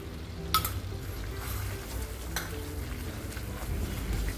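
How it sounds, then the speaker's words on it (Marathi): Moong dal halwa is stirred with ghee in a pan, giving a soft, steady scraping and faint sizzle, with a few light clinks of the spoon against the metal. "सतत ढवळत राहायला लागतं"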